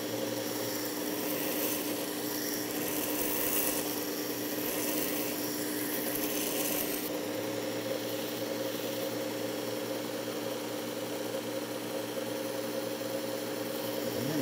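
Steady, continuous abrasive grinding as a broken knife blade is ground on 120 grit to reshape its tip and bevel, a constant power-tool whine running unbroken throughout at an even, close level.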